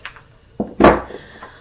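Mortar and pestle and other ointment-compounding tools being handled, giving a few sharp, close clinks and knocks of hard ware against ware, separated by brief quiet.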